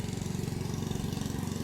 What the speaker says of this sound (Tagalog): he's the one now doing the lawn mower